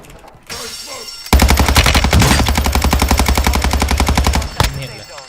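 Rapid revolver fire in the shooter Warzone 2, a loud dense string of close shots lasting several seconds, preceded by quieter game sounds and cut off abruptly near the end.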